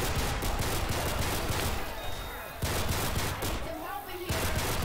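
Dense, sustained gunfire from the zombie shooter Left 4 Dead, loud and continuous with rapid overlapping shots and brief lulls, under a busy game mix.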